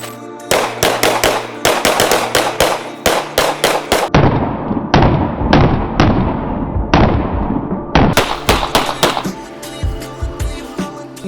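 Two pistols fired simultaneously ring out in loud bursts, sharp cracks in quick succession with brief pauses between volleys, no talking.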